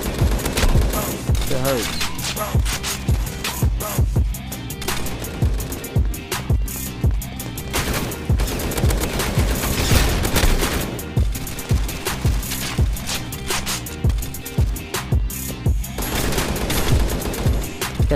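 Continuous FAMAS rifle fire in the blocky shooter Pixel Strike 3D, loud rattling bursts filling the whole stretch with little pause, a brief voice speaking over it.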